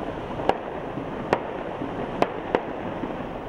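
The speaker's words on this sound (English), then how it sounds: "Explosions and plumes of smoke fill the air over western Mosul in Iraq today" Distant explosions over western Mosul, Iraq, four sharp muffled blasts spaced irregularly over a steady low rumble of ambient noise, with no voices.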